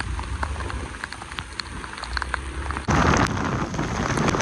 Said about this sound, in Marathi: कसलो पाऊस लागता जबरदस्त पाऊस